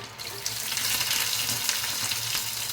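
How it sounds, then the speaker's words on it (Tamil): Finely chopped small shallots frying lightly in oil, a close, steady sizzle with faint watery crackle and no voices. "இந்த வெங்காயம் வந்து லைட்டாக ஆயிலில் பொரியட்டும்"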